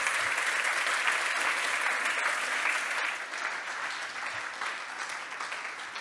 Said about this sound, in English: Let's give James another round of applause.